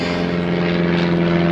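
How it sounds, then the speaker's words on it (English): An airplane flies overhead above the Peak District hills near Derwent Edge, a steady, loud droning hum with a buzzing propeller-like tone that holds constant throughout. "Plane flying above."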